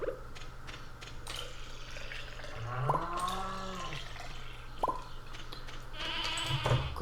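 Goat bleats and cow moos from the farm animals in Stardew Valley, a pixel-art farming video game, rising over soft background game music and small mechanical clicks, with a couple of short calls spaced a few seconds apart.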